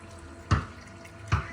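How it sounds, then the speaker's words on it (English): Engine oil drips from the drain of a Honda Civic: two distinct, close drops about 0.8 seconds apart, each a short soft plop against a quiet background. "Oil is still dripping."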